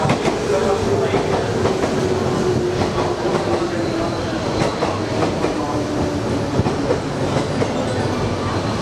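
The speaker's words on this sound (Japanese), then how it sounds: "1番乗り場列車到着です。" A JR West Osaka Loop Line train pulls into the platform at Nishikujo or Noda station, its steady wheel rumble and rail clatter loud and continuous, with a faint platform announcement voice underneath.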